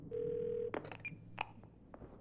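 A phone dials 911 in the Twelve Minutes video game: a steady tone, then a few short beeps and clicks at a moderate level, with no talking over it.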